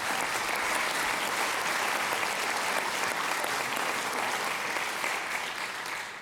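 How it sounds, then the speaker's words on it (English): An awards-event audience delivers a steady, dense round of applause, a continuous wash of many hands clapping at moderate level that barely varies over six seconds, with no talk over it. "I'd like to give them another round of applause from San Mateo County."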